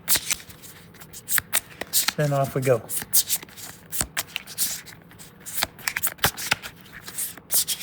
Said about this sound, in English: I know the shuffling is not always the greatest.